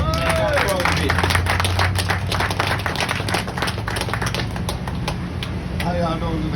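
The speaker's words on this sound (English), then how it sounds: "Clap it up for him, y'all." Sharp, close handclaps from a small audience at a community event in Birmingham, Alabama, a dense burst of individual claps that thins out toward the end, with some voices mixed in.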